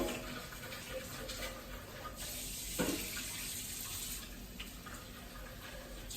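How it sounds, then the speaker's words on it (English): Water runs steadily from a tap, splashing into a Nespresso coffee machine's water tank being rinsed after descaling, for several seconds, with a brief knock partway through. "rinse and refill the water tank with fresh potable water"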